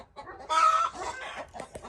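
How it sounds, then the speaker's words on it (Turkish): A chicken clucks close by, a short squawk followed by a few softer clucks. "Aa orada tavuk var."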